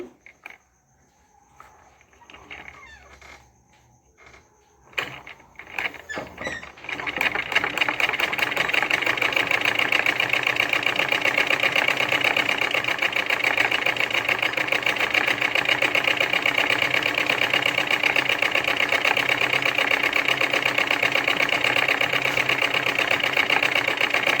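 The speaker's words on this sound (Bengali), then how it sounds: "আমি সেলাই করে আপনাদের ভালো করে বুঝিয়ে দিচ্ছি দেখুন আমি সেলাইটা করে নিচ্ছি" A sewing machine stitching cord, starting with a few scattered clicks and handling noises, then running into a loud, continuous rapid mechanical whir that holds steady at close range.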